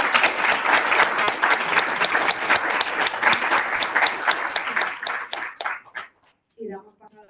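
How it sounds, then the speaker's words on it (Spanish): Audience applause for three panelists at a business conference on family offices and mergers, dense steady clapping for about six seconds that thins out and stops, followed by a brief voice. "voy a pedir un aplauso para los 3 ponentes"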